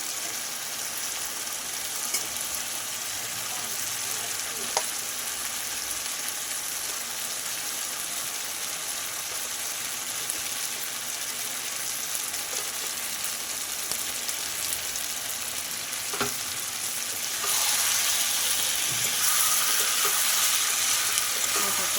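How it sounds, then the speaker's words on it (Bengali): Fried fish pieces frying in a pan for chilli fish, a continuous close hissing sizzle with scattered stirring clicks that grows louder and brighter in the final few seconds. "ভাজাগুলো দিয়ে দিচ্ছি"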